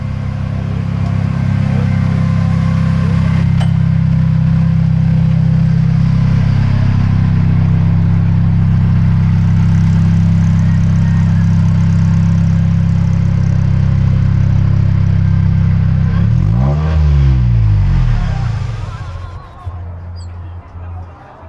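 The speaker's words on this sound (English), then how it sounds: "Or you can pull in an Ariel Atom." Ariel Atom sports car pulling in with a loud, steady engine drone throughout, a brief rising rev near the end as it arrives, then settling quieter; voices murmur faintly underneath.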